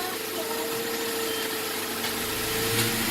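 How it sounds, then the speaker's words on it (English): A 2004 Saturn Ion engine idles steadily with a constant low hum and slight vibration, unchanging throughout, with no voices. "car is running."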